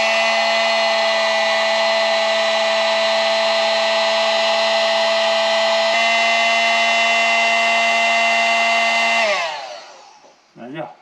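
A heat gun blows steadily and loudly at close range while shrinking heat shrink tubing over a soldered wire, then winds down near the end.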